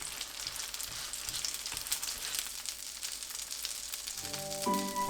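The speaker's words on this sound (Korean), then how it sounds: "약불로 단단하게 부쳐내면 됩니다." Beef and fatsia shoot pancakes frying slowly in a pan on low heat, giving a soft, steady sizzle close by with no talking.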